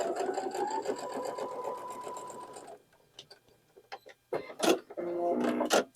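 A sewing machine stitches a seam on a four-patch quilt block, whirring steadily for a few seconds, then stopping amid light clicks before a second rapid burst of stitching close by.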